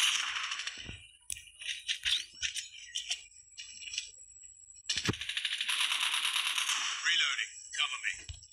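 Rapid bursts of automated sentry gun fire in Call of Duty Mobile's undead attack mode, sharp clustered shots coming in uneven volleys with a sustained noisy stretch near the end, mixed with other game effects.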